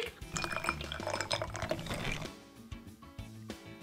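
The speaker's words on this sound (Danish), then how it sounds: "vend flasken på hovedet, til perlerne falder ned, før du hælder" Bubble tea with tapioca pearls pours from an upturned bottle, a continuous liquid splash and glug that later breaks into drips, heard close and quiet.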